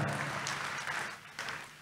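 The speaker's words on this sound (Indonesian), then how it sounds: "Tepuk tangan dong buat Tuhan kita." Congregation clapping during a church worship service, a short burst of fairly quiet applause that dips and swells again, with faint voices in the background.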